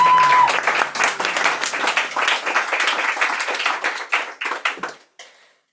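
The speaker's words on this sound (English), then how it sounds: "can I give a very big another round of applause to Jeanann?" An audience at a poetry night gives poet Jeanann Verlee a round of applause, a close crowd of claps and a few whoops that thins out to scattered hand claps before stopping.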